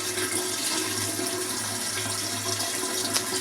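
Water runs steadily from a tap into a sanitized keg being filled with 3 gallons for homemade root beer, a loud continuous rushing pour close by with no voices.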